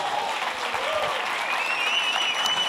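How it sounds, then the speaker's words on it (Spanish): An audience at a stand-up comedy show applauds in a dense, steady burst of clapping with some cheering, loud and continuous throughout. "Un fuerte aplauso para nuestra bandera,"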